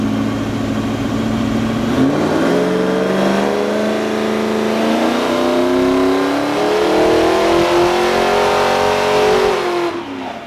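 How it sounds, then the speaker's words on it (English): A supercharged 383 stroker engine in a VY One Tonner, run with the airbox disconnected from the intake, revs loudly and climbs steadily in pitch over several seconds, holding a strong, close, sustained roar before dropping off at the end. "we decided to disconnect the airbox from the air intake and run it up again"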